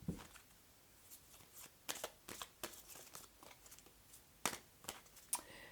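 Romance angel oracle cards being shuffled, soft riffling and flicking bursts repeating irregularly, close but quiet in an otherwise still room.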